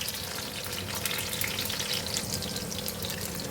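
Green chillies and dried red chillies fry in hot oil in a pan, giving a steady, dense crackling sizzle with fine popping throughout, close and continuous with no talk.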